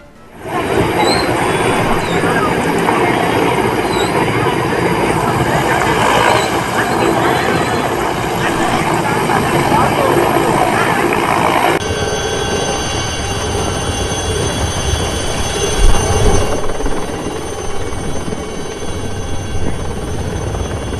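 Military navy helicopters dropping food packets over flooded areas of Vijayawada give a loud, continuous rotor roar that fills the whole stretch, shifting in tone partway through, with no clear talk.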